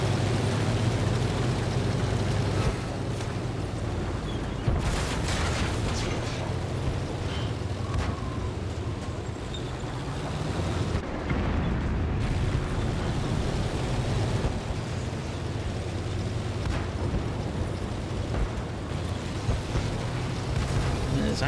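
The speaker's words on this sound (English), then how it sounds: "That was an artillery shell." Artillery shell explosions in the tank battle game World of Tanks, heavy rumbling booms under a continuous engine drone, with a sharp blast near the middle and people talking over it.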